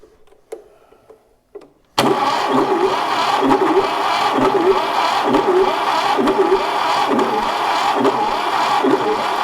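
A 1968 Fiat 500, dormant for forty years and suspected of bad valves, cranks and catches after a couple of quiet clicks, then runs as a loud, steady, close-up idle with a rhythmic uneven putter.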